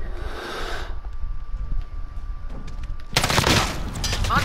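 Gunfire in the video game Call of Duty Modern Warfare, including shotgun blasts, with a dense burst of shots erupting loudly near the end over continuous game noise.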